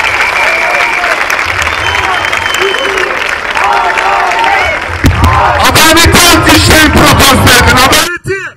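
A crowd applauds steadily with scattered voices and babble at a political rally outside Antalya Metropolitan Municipality, the clapping growing louder and denser toward the end before cutting off abruptly.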